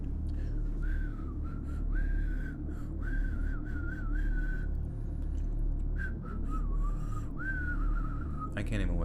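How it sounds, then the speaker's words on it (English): During a live stream of scary highway stories, a thin, wavering whistle rises and falls in short phrases over a low, steady background hum, with a brief gap midway before it returns. "Everybody's hearing whistling."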